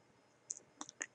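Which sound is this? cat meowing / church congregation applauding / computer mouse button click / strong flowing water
computer mouse button click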